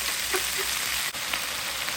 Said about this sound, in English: All right, so these are starting to sear.